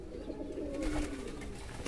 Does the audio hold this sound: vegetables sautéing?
no